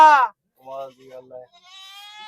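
A desi goat at a goat market bleats loudly and close at the start, then softer wavering bleats follow, ending in a long sustained bleat.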